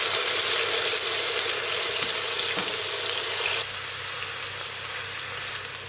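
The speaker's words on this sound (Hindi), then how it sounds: "ऑयल हमने ले लिया है पैन में तकरीबन 3 से 4 टेबल स्पून। अब हम जो चिकन है अपना इसके अंदर ऐड कर देंगे।" Chicken frying in a few tablespoons of oil in a pan gives off a steady, loud sizzle and hiss that fills the whole stretch without any talk.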